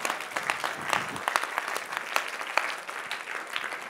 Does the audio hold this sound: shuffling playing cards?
no